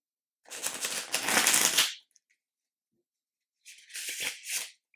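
Two bursts of tarot cards being shuffled, a longer rustling flurry followed by silence and then a shorter shuffle, close and fairly quiet.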